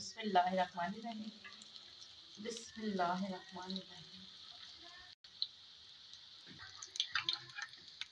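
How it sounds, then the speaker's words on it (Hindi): Kebabs fry in a pan with a soft, continuous sizzle, while someone talks over the cooking for much of the time. "हम एक एक करके रखते जाएंगे इसको फ्राई कर लेंगे"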